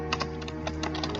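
Quick bursts of keystrokes on a computer keyboard while writing HTML5 code, light rapid clicks close to the microphone over a steady electrical hum.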